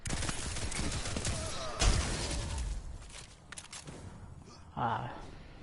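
Pulse rifle fire in a PS4 shooter game, rapid bursts crackling densely for the first couple of seconds, then scattered shots and whooshes, ending with a brief swelling tone.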